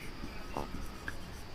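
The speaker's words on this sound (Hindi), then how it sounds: "तो आइए एक सेंटेंस लिखते हैं" Chalk or marker scratches across a board while a sentence is written, a faint brief scraping with small squeaks in a quiet room.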